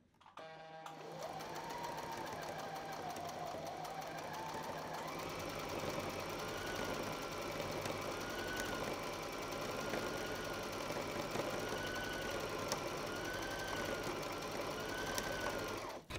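A Brother GS2700 sewing machine runs free-motion embroidery stitching, a fast continuous mechanical whirr with a wavering motor tone rising and falling as the fabric is moved, steady and close throughout.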